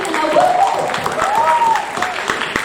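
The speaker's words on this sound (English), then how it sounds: "let's hear a round of applause for Avenue Primary" An audience gives a round of applause for Avenue Primary school, a brief burst of steady clapping with a voice speaking over it.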